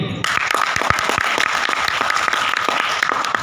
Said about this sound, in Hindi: एक बार अभी तक का सबसे जबरदस्त ताली इनके लोगों के लिए।